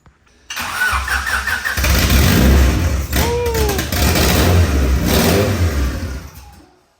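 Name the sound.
Honda Civic engine starting and revving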